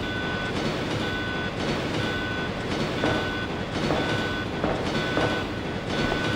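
A train rumbling steadily in Resident Evil 2, with a constant loud mechanical roar, rhythmic clatter and a high steady tone running through it.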